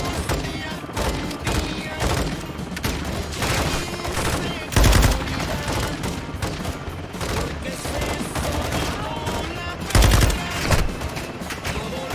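Sustained light machine gun fire from Call of Duty Modern Warfare II rattles on without pause, loud and dense with heavier thuds and booms mixed in, while a voice talks faintly underneath.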